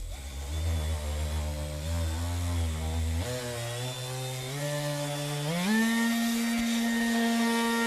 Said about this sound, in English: Pretty impressive little detail sander.